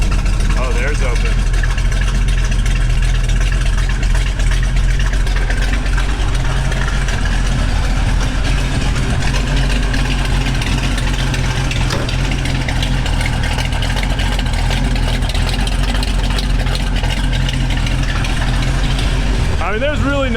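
A 1970 Chevelle with a 454 Chevy big block idles loudly on open headers, a steady deep rumble with lumpy exhaust pulses that holds for the whole stretch, with some talk over it.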